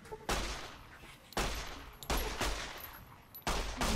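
Shots from a 9mm pistol in the game Fallout: New Vegas, four separate loud cracks spaced about a second apart, each with a short decaying tail.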